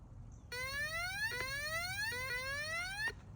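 A metal detector near a backyard swimming pool gives an overload alert, a loud warbling electronic tone repeatedly sweeping upward in several quick cycles, close and alone over faint background noise.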